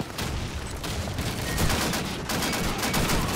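Dense gunfire rattles through a battle in the video game Call of Duty 2, with rapid machine-gun bursts and explosions forming a loud, continuous barrage.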